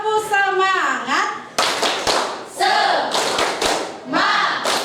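Classroom of children doing a rhythmic spirit clap led by a teacher, sharp patterned hand claps interleaved with loud chanting children's voices, close and lively.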